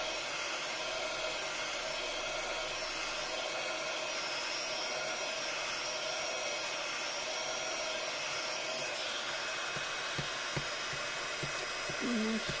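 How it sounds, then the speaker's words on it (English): A heat gun blasts hot air steadily at stuck-down brick slips, a loud, constant close whooshing roar running throughout with a few faint knocks near the end. "Just give it a good blast with the heat gun."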